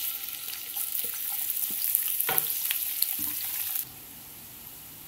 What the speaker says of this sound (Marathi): तर आपण आता टाकून घेऊया कांदा।